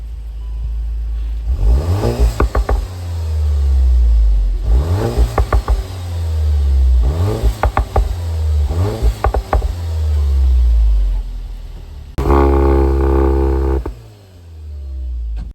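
A stock Volkswagen Golf 8 GTI without a downpipe revving repeatedly, five or so rising throttle blips that fall back to a steady idle, then one higher sharp rev near the end, close and loud with no talk.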